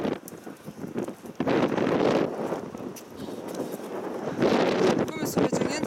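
Strong wind buffets the microphone during a truck loading of a Komatsu PC210 excavator, roaring broadband gusts that swell and fade with no talk over them.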